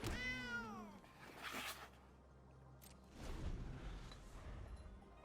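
A cat meows in the card game MTG Arena, one clear, close, rising-and-falling meow at the start followed by softer swishing game effects and quiet stretches.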